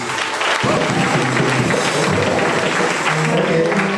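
A church congregation at a Sunday service applauds loudly and steadily, dense clapping filling the room for the full four seconds with a few voices mixed in.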